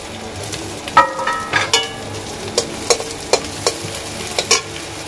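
A steady sizzle of onions frying in oil with garlic and dried chillies, broken by a series of sharp scraping clicks as a utensil stirs the pan.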